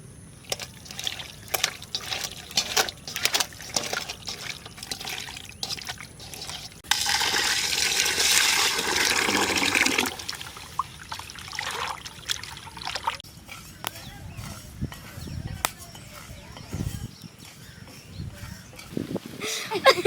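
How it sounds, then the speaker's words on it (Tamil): Raw chicken pieces washed in water with turmeric for a Chettinad chicken gravy, giving continuous trickling, splashing and sloshing water with a louder pouring rush midway, close and steady, no voices. "அதுக்காண்டி மஞ்சளை சேர்த்து கழுவ போகிறோம்."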